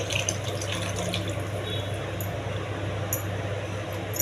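Tamarind fish gravy mixture poured into a pan of sautéed onion and garlic, a steady, continuous liquid pour with soft splashing, moderately close and without speech.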